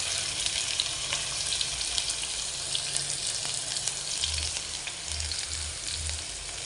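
Crushed ginger, garlic and green chilli paste frying with shallots in a pan, a dense, steady sizzle close by with faint crackles and low thuds of stirring underneath.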